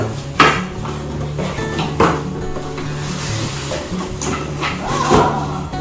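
Saladmaster cookware pots and lids handled during unboxing, with a few metallic clanks and knocks spaced a second or so apart, close and moderately loud.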